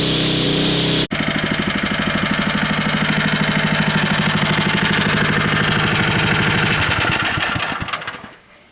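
A small fire pump engine on a fire skid roars at full throttle with the recirculate valve closed, a loud, steady drone that sputters and dies away in the final second.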